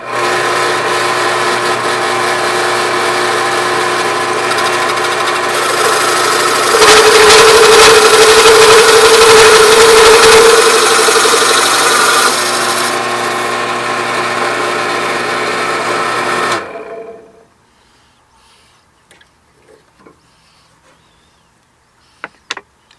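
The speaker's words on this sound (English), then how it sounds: "next I'll drill the back side." A power drill bores into the back side of a wooden 2x4, a loud steady whine that rises and roughens midway as the bit bites, then cuts off, leaving near silence with a few small knocks.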